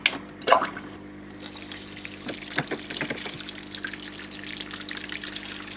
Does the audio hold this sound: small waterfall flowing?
yes